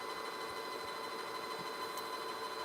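A domestic sewing machine stitches a fabric cup coaster made from a fat quarter, giving a continuous close mechanical whir with a steady motor hum and no pauses.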